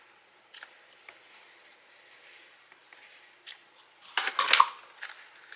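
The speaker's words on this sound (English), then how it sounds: "And then I'm going to trim the ends here." Scissors trim ribbon ends on a handmade Christmas matchbook treat holder, giving a quick cluster of close, crisp snips near the end after faint rustling handling noises.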